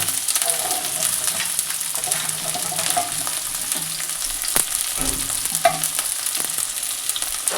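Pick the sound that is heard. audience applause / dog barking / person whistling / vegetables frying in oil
vegetables frying in oil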